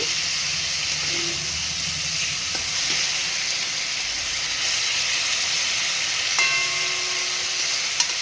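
Large pieces of raw fish sizzle and crackle in a hot pan as they are carefully turned over, a continuous loud fry with a few soft clinks and scrapes of the utensil.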